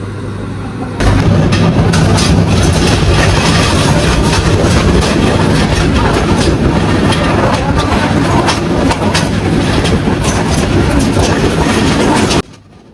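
A loud, continuous rumble of the Bijoy Express running on the tracks, with steady rhythmic clatter of wheels, close and sustained throughout.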